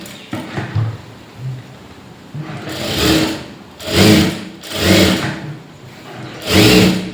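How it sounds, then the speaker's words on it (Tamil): A sewing machine stitches around the lining of a blouse in repeated loud bursts, each lasting about a second with brief gaps between, close to the microphone. "இப்போது இதை சுற்றி தையல் போட்டு எடுத்துக்கோங்க"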